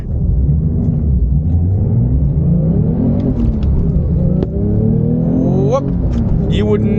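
A Porsche 911 Sport Classic with a manual gearbox pulls hard from inside the cabin, its engine rumbling loud and rising in pitch as it accelerates, with a voice speaking over it.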